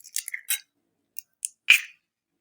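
An egg is cracked in a home kitchen for coating vegetable chicken cutlets before frying. A few small, close, sharp taps and cracks sound against near silence, with a brief crisp crack near the end.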